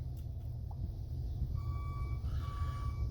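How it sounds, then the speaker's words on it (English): A steady electronic beeping tone from a truck-style reversing beeper speaker, wired to a Chamberlain MyQ garage door opener, sounds from about halfway through over a constant low engine rumble. "It's the speaker that you have on the back of trucks when they're backing up."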